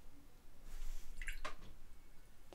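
A wet watercolor brush, rinsed and loaded with extra water, is tapped to splatter paint, giving a few soft wet taps and spatters against a quiet background.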